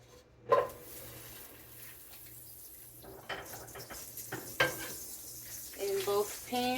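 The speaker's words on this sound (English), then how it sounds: "So I'm going to put a little bit of my Earth Balance butter." Earth Balance vegan butter sizzling in two hot pans, a steady faint frying hiss with occasional utensil clinks and stirring scrapes, no talking.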